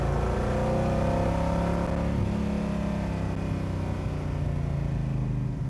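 A 1971 De Tomaso Pantera supercar accelerating, its engine giving a continuous loud rising roar with layered harmonics, heard close and steady throughout with no voices.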